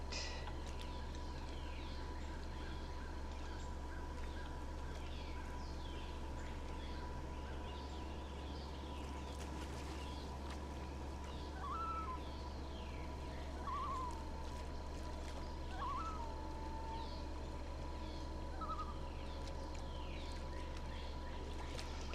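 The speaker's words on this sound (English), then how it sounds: "They have bird noises, water noises." Water laps gently under a low constant hum in a fishing video game, with a few faint bird chirps scattered through the middle.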